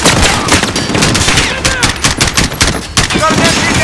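Loud, sustained machine gun bursts in the Call of Duty: Modern Warfare video game, dense overlapping gunfire with sharp cracks and booming reports, mixed with shouted battle voices.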